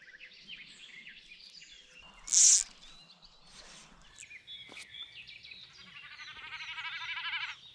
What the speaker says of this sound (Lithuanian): Čia yra perkūno oželis. Ir tai nėra ožys. Tai pasirodo yra paukštis. Ir jisai tą garsą skleidžia skrisdamas.